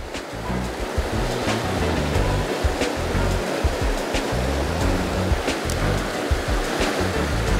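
Fast water in a river or creek rushes over rocks, a steady dense roar that stays close and continuous, with no talk over it.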